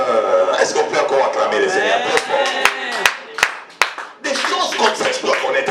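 Church congregation clapping and cheering loudly in praise of the Lord, a dense sustained wash of applause with a few sharp claps, briefly thinning before surging again.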